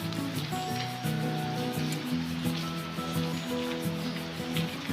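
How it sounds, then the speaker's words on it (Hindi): Heavy rain pours down onto a rooftop, a steady dense hiss with patter that continues without pause throughout. "बहुत ही ज़्यादा वाली तेज़ बारिश हो रही है"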